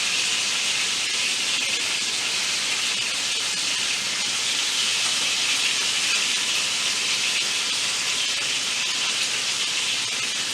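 Ribeye steak searing on high heat in a hot pan gives a loud, dense, unbroken sizzling hiss that holds steady throughout.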